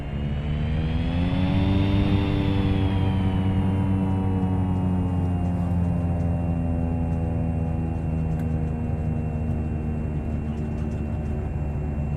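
Light propeller airplane departing runway 09 at Franklin Municipal airport: a loud, continuous engine drone with strong steady harmonics, rising in pitch early as power comes up and then holding steady, close and alone.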